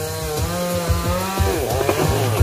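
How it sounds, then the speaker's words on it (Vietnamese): A chainsaw runs steadily, its engine note dipping and rising as it cuts through the top of a tree, close by with no voices. "anh cưa nguyên cái đọt luôn nha cả nhà"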